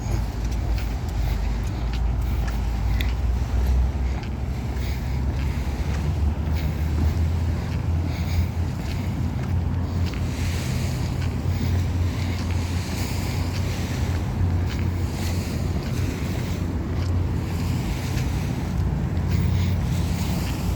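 Sea waves wash steadily at a marina seaside, a constant broadband roar mixed with wind buffeting the microphone, loud and continuous with no pauses.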